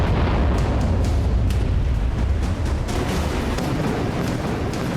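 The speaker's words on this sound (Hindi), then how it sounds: "अमेरिकी राष्ट्रपति के सीधे आदेश पर ईरान का चौतरफा और प्रलयंकारी हवाई हमले" Explosions from US air strikes on Iran form a loud, continuous rumbling roar broken by repeated sharp bursts and cracks.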